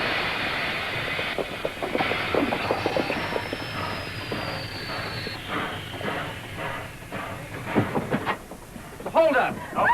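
A train rolls along rails with steady rumbling and periodic clatter, mid-distance and continuous, while people talk over it in an old 1941 western setting.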